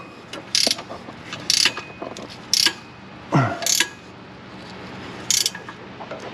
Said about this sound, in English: I'm just running these bolts down to create the clamping force